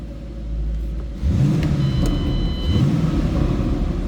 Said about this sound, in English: Good sounding car.